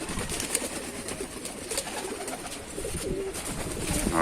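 Soft pigeon coos murmur repeatedly against a steady, noisy background, with no talking; pigeons in a loft in Tanta, Egypt.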